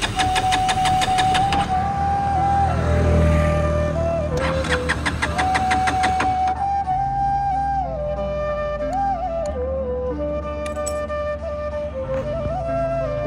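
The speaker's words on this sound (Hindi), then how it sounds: "यहाँ पर हमारी गाड़ी बंद हो गई है, चालू नहीं हो रही है।" Starter motor of a KTM RC motorcycle that will not start whirs in two long cranking bursts that fail to catch, followed by a warbling electronic tone and scattered clicks.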